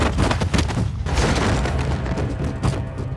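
Dense, rumbling thumps and booms of birds striking an Airbus A320 airliner in flight, a steady heavy pounding that fills the whole stretch with no voices.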